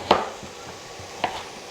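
Knife chopping celeriac on a cutting board for white bean soup, two sharp isolated chops about a second apart with a quiet kitchen background between them.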